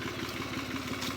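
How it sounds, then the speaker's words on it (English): A tractor engine runs nearby in an open grassy field, a steady rhythmic throbbing rumble with some mechanical clatter and no voices. "There's a tractor right there. That's the noise is."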